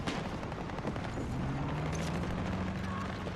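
A grenade blast in Battlefield 2042 hits as a sharp opening bang followed by rumbling, crackling battlefield noise and a low droning tone, loud and dense throughout.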